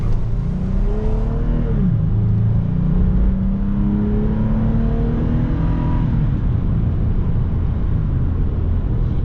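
A 2008 Toyota Tacoma pickup with 165,000 miles drives steadily, its engine humming and shifting pitch as it accelerates under constant road and cabin noise, with no voices.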